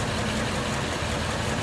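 A stock flathead engine in a 1946 Ford Super Deluxe convertible idles steadily with the hood open, giving a continuous low rumble with no pauses and no voices.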